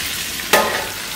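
Bluefish frying in a pan on high heat crackles with a soft steady sizzle, broken by one sharp burst of spattering near the middle.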